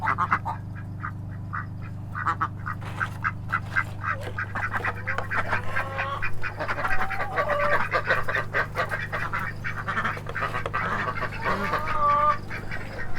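Ducks in a pen quack repeatedly and overlap in a busy, close chorus over a steady low background hum.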